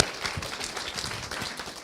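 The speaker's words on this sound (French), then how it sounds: "Merci Denise, oui, on applaudit" Faint, brief applause from an audience at a talk on universal basic income in Gironde, scattered claps sounding at a distance for under two seconds.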